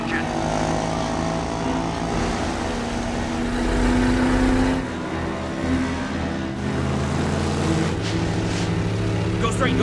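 A boat engine runs steadily at close range, a continuous mechanical drone that swells for a moment mid-clip, heard in a film scene set on water.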